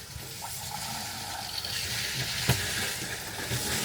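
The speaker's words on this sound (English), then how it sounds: "Give the shower a little test here." Water runs from the shower in an old camper trailer, a steady hiss and splatter with gurgling underneath and a brief clunk partway through, close by and without talk.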